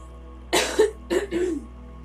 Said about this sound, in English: With me wanting to clear my throat there